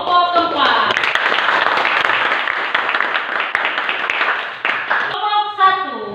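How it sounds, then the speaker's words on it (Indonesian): Classroom audience applauding a group presentation, steady loud clapping from many hands for several seconds, with a voice briefly heard near the end. "Kita akan berikan aplaus buat kelompok 4"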